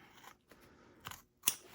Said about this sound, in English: we will have to use scissors for that part of it